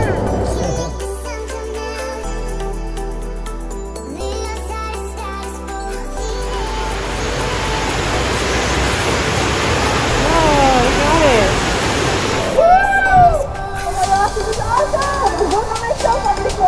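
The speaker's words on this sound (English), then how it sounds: "Oh look, another waterfall!" A waterfall roars with steady rushing water throughout, broad and continuous, with voices calling out over it near the end.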